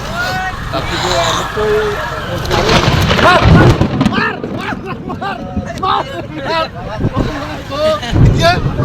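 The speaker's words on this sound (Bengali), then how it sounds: "হঠাৎ করে দেখি বৃষ্টি" Heavy rain pours steadily with low rumbles of thunder, while several people talk loudly over it during an outing.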